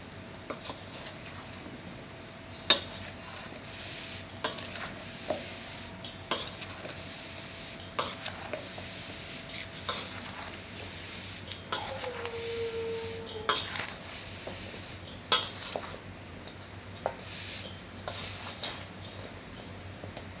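Raw mango pieces for pickle tossed and mixed in a bowl, scattered clinks, knocks and shuffling of the pieces against the bowl with quiet gaps between them and a faint squeak, close and without talk, over about twenty seconds.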